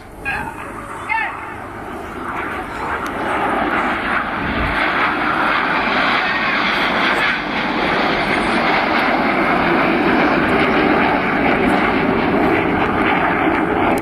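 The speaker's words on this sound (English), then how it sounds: "the aircraft we're flying is the BAE Systems Hawk T Mark 1. Fantastic jet trainer" BAE Systems Hawk T1 jet trainers of the Red Arrows roar loudly overhead in a sustained, building rumble as the aircraft pass during an air display, with a voice talking underneath.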